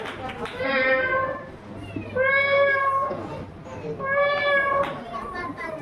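At a school cultural competition, a person mimics a cat, producing three drawn-out meows in a row, each rising then falling, close to the listener.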